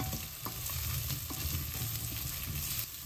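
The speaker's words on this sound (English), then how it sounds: "Saute this for a minute or two." Spices with anardana sauté in a pan over a low flame, giving a steady, even sizzle with faint stirring taps throughout, close and without voices.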